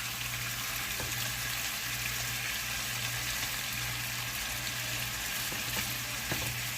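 Chicken and mushrooms fry in a pan with a steady, close sizzle and occasional faint scrapes and pops. No one speaks.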